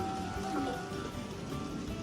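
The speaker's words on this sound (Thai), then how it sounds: "ฝนตก" Rain falling, a steady close patter on a surface, with faint tonal background sounds mixed in and no clear speech.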